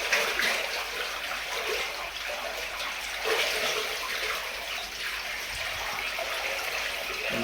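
Water pours steadily into a tub during a soapy bath, a continuous close splashing rush lasting several seconds with only slight variation in loudness.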